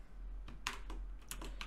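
Keys on a computer keyboard clatter while Python code is typed, a quick run of crisp, close clicks at an uneven rhythm over a low steady hum.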